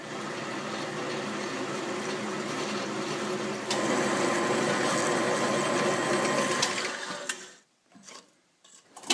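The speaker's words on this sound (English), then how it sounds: "Start drilling." A drill grinds continuously with a busy mechanical rattle, growing a bit louder midway, then cutting out near the end with a few brief clicks.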